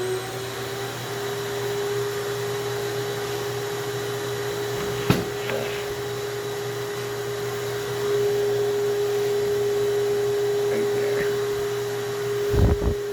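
A CNC vacuum table hold-down pump running with a steady tonal hum and airy whoosh, joined by a few brief knocks and clatters near the end.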